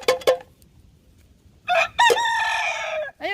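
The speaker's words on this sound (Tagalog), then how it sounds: "Chicken. Rooster." Chickens cluck and a rooster crows at a backyard farm: two short clucks at the start, a quiet gap, then a loud, close, drawn-out cock-a-doodle-doo followed by another call beginning.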